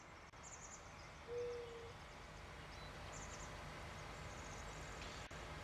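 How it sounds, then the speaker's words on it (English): Faint bird hoots in Farming Simulator 19 sound over a steady hiss of ambient game noise, a couple of soft calls standing out near the start and middle. "Damn birds."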